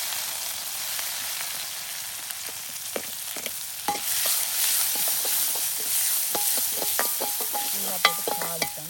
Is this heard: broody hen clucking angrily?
no